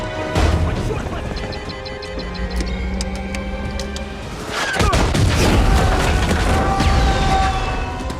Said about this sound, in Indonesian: salah satu petugas keamanan menembakkan mereka menggunakan bazooka